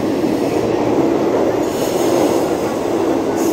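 A Mumbai local train between CSMT and Dombivli rolls steadily through rain, a continuous loud rumble and rush of wheels on track with a faint metallic squeal, no voices.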